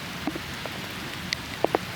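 Light rain falls outdoors in Washington, DC, near the U.S. Capitol, a steady soft patter with a few scattered distinct drops hitting nearby surfaces.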